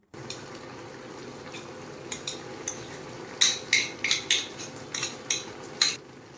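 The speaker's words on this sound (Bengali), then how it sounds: "একটু ভালো করে নেড়ে নিতে হবে বেটে নেওয়া মশলাটা দিয়ে দিচ্ছি" Spoon clinks and scrapes in a pot as ground mustard paste is stirred into a simmering Bengali curry of garden Malabar spinach (pui shak), with a steady low simmer beneath a run of sharp metallic taps.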